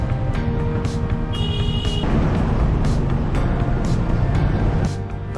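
Congested street traffic in Kuala Lumpur forms a loud, continuous roar of vehicles close by, with a brief high whine partway through and passing engines swelling and fading.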